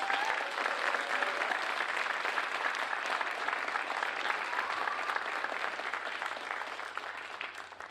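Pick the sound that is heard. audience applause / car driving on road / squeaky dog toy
audience applause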